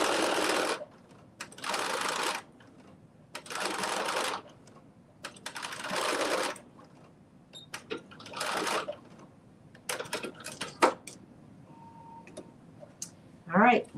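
A home sewing machine stitches an armhole on a McCall's 8142 garment in several loud, steady bursts of a few seconds each, separated by pauses with small clicks and handling noises, and no talk over the stitching.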